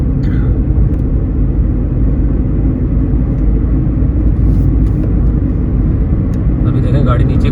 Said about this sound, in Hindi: अभी देखें गाड़ी नीचे को जा रही है